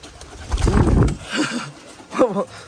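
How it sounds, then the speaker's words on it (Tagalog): Pigeons cooing in a Philippine pigeon loft, a few soft low coos amid rustling and background noise, with people talking nearby. "So ito yung mga ibon dito."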